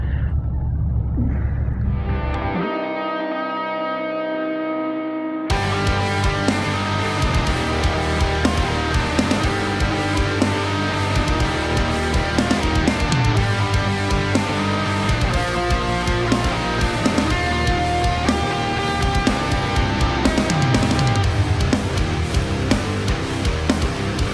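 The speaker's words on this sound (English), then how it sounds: "we're about to hop on this little bike, the Z400" Kawasaki Z400 motorcycle, a roughly 390cc parallel twin, idling briefly and then ridden, a steady loud engine drone with rising and falling revs and wind noise throughout, close to the rider, with no talk.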